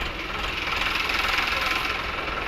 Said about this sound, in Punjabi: ਦੋ ਸਿਲੰਡਰ ਦੇ ਵਿੱਚ ਟਰੈਕਟਰ ਹੈ ਜੀ